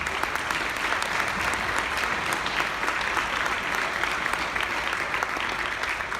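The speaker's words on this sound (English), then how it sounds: "Give those guys a nice round of applause" Dense, steady clapping from an audience at a school awards night, a continuous even roar of many hands held at one level without pause, fairly close.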